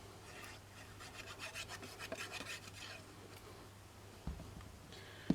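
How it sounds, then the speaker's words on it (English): A mono eraser rubs back and forth on paper in quick, close, scratchy strokes, a run of rapid rasping passes followed by quieter moments and a couple of small knocks at the end. "This is just the mono eraser."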